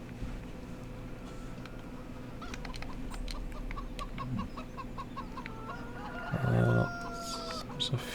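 Chickens in Farming Simulator 17 cluck in a farmyard, scattered soft clucks over steady background hum, with a louder burst of clucking near the end.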